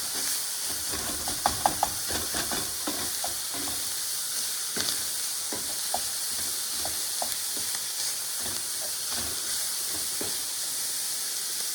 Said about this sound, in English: Okay, listen to that sizzle